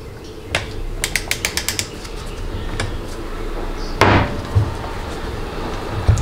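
Ratcheting clicks from a Torx 27 socket torquing a fastener on a 1999 4L80E transmission valve body, a quick run of sharp close clicks followed by a single louder knock of the tool settling.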